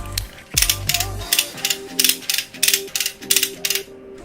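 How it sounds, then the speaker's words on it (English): An ANCRA Integra big bike ratchet tie down is cranked tight, a close, crisp series of about ten clicking ratchet strokes in a steady rhythm, each pull giving a short burst of pawl clicks. "Once you would have it adjusted to your preferred or desired spot when tightening, you would just go ahead and start ratcheting."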